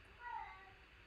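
A faint, drawn-out cat meow rises briefly in a quiet room, heard from some distance.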